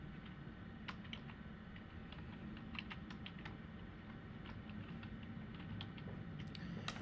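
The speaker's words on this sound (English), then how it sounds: "Type in your name." Keys tap on a computer keyboard, a sparse series of faint clicks over a steady hum of background noise.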